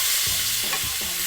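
Cod fillet frying in a thin layer of hot oil in a pan, a steady close sizzle with soft stirring or shifting sounds over about a second, no voices.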